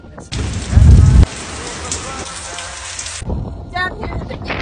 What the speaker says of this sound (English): A lot of wind, a lot of rain this week.